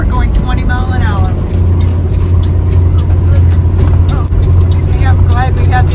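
A Wraith motorhome's engine strains under full throttle climbing a hill at about 20 mph, a steady low drone and hum throughout, with people talking over it.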